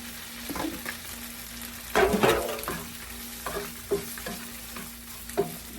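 Shrimp sauté in a pan as a topping for pancit sotanghon, with a steady close sizzle broken by several sharp spatula scrapes and a low constant hum underneath.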